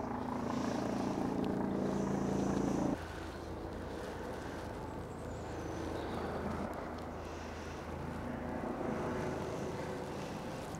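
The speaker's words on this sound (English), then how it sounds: "Excuse the police helicopter circling over top." Police helicopter circling overhead outdoors, a steady distant rotor drone that is louder for the first few seconds and then fades to a softer background rumble, with no talk.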